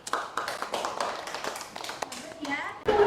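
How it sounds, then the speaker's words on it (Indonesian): A classroom group gives applause for a student group, a short, scattered patter of hand claps from several people with child-like voices talking over it. "kita kasih aplaus untuk kelompok Ali"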